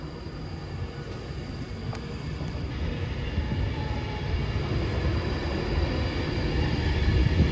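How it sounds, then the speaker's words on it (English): Class 390 train 390-039 pulls away from Stoke-on-Trent toward Manchester Piccadilly, a broad rumble building steadily and growing louder over several seconds, with a faint high whine and brief clicks. "Up goes 390-039 for Manchester Piccadilly."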